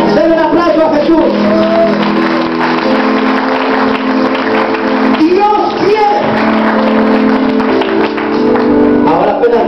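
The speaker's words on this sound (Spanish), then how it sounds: "Denle un aplauso a Jesús" A church congregation claps loudly and steadily, with shouting and cheering voices mixed in over the whole stretch.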